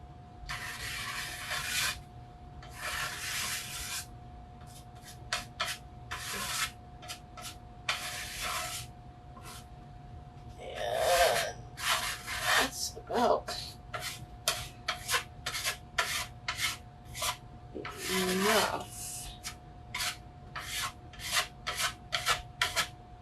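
Paint being scraped off a faux reclaimed boat wood board, heard as repeated short rasping strokes, close by, in irregular bursts with a few longer scraping passes and brief pauses between them.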